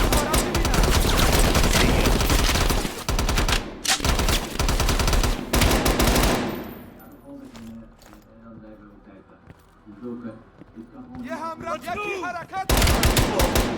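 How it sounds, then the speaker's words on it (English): Heavy suppressing gunfire rattles in dense automatic bursts during a Call of Duty Black Ops Cold War firefight, loud and close, pausing mid-clip for quieter clatter and shouted voices before the shooting resumes. "Lay down suppressing fire!"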